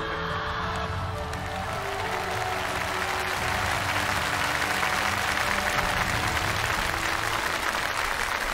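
A theatre audience applauds steadily after a stage performance, a dense, even wash of clapping from a large crowd that holds at a constant level throughout, with no talking.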